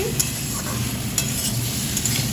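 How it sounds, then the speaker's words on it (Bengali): Goat meat with turmeric and salt sizzles steadily in a hot pan while being stir-fried, with occasional sharper scrapes from the stirring over a continuous close frying hiss. "এইবারে মাংসটা কষা হোক, তোমরা দেখতে থাকো।"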